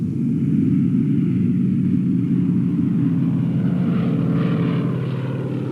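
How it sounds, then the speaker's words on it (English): A propeller airplane drones steadily and loudly in flight, a constant deep engine rumble with no voices. "we got into the airplane and took off"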